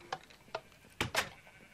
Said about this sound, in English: Wait, I got a random pink sheep.